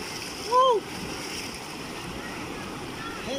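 Strong river current rushes at Pangadilan Falls as a steady, moderately faint wash of water, and a brief voiced whoop rises early on.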